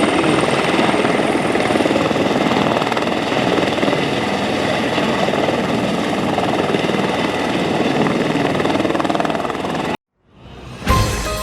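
An Airbus H130 helicopter drones loudly and steadily for about ten seconds with dense rotor and turbine noise, then drops out abruptly before the roar surges back at the end.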